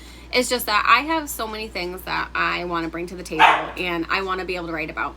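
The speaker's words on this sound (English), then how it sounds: "Sorry if you can hear my dog in the background." A pet dog barks and yips in the background, short bursts scattered beneath someone talking steadily at close range indoors.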